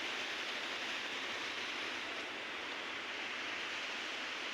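The flooded Bhima river surging in heavy flow, an unbroken hissing roar of water that holds steady from start to finish.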